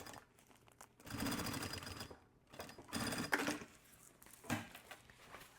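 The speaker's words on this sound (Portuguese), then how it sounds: "Agora eu vou costurar o outro lado." A sewing machine stitches the second side of a thermal bottle holder with a phone pocket, running in several bursts of steady motor whirring broken by short pauses, close and moderately loud with no talk.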